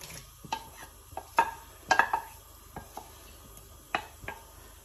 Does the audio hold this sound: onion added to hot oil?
yes